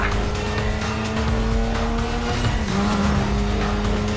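A car drifting in Need for Speed Most Wanted (2005), engine roaring steadily while tires squeal and skid in sustained wavering screeches, loud and continuous throughout.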